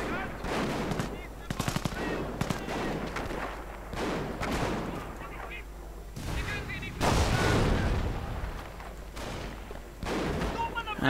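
Video game battle as Grenadiers come under a heavy barrage of rifle grenades: rapid bursts of gunfire and machine-gun rattle mix with sharp blasts and thumps, dense and loud, with a commentator talking over the fighting.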